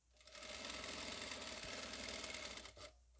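A sewing machine stitches a hem on a cotton dish towel, a steady close whirring run of rapid needle strokes for about three seconds that pauses briefly near the end.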